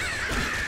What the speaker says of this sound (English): So many damn birds!